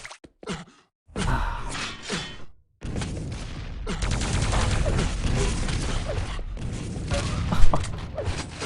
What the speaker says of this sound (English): He can't let Rapha do the plasma crap again to him, and that's exactly what happens.